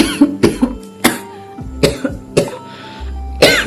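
A person coughs in a series of sharp, loud, close bursts, roughly seven hacking coughs spaced irregularly over a few seconds with short throat-clearing sounds between them.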